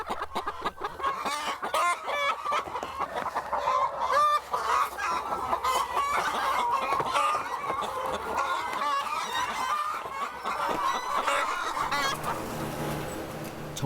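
Hens cluck and squawk continuously throughout a large welfare-certified laying-hen farm housing some twenty thousand birds, a dense chorus of many overlapping calls with no talking.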